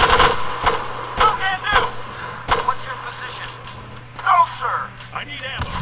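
Gunfire in a video game rings out as several sharp, loud shots spaced irregularly, with players talking over and between them.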